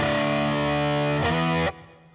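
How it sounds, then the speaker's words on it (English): Electric guitar played through a DOD 250 distortion pedal, a loud sustained distorted chord ringing out, briefly restruck, then cut off sharply into a quiet fading tail. "This was a distortion pedal for many people like myself."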